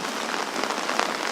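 Steady rain falls on a surface with a dense, continuous hiss that holds at an even level throughout, with no voices.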